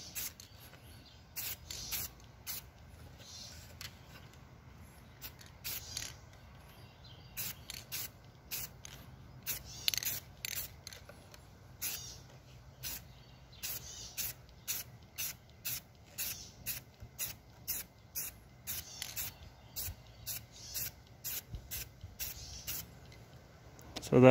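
Short repeated hisses of Rustoleum enamel spray paint as a first black coat goes onto a guitar body, quiet close bursts that come faster and more regularly toward the end.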